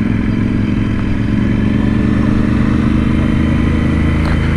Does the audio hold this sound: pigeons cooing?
no